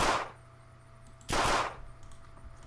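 A WW2 submachine gun fires in the video game Unturned: two loud, sharp bursts of gunfire about a second apart, each dying away quickly, with a quiet gap between them.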